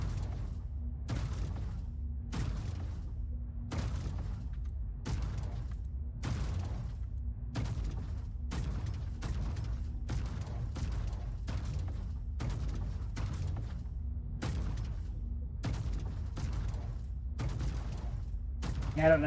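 Turret weapon fire in a space video game, recoil-adjusted build, heard as a steady run of loud, evenly spaced shots about once a second, each with a sharp crack and booming low tail, alone without speech.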